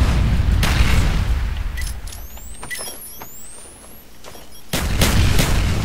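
Big booming blasts and gunfire from a hardcore Search and Destroy match in Call of Duty Black Ops, a grenade going off among loud impacts at the start and end with a quieter stretch of scattered shots and whizzing tones between.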